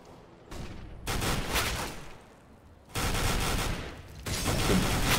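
Bursts of gunfire ring out during an esports match of the video game Counter-Strike, with rapid rifle and machine-gun volleys coming in separate waves, loud and alone with no talk over them.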